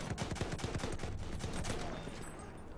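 Battlefield 1 gunfire rattles in rapid bursts through the first half, with dense automatic shots over a constant battlefield din, then thins into steady background noise.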